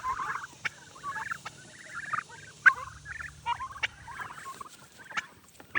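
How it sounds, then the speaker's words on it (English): Young turkeys out on pasture making quick chirping gobbles and peeps, many short calls scattered at moderate volume over a quiet background. "Look at the little turkey, y'all."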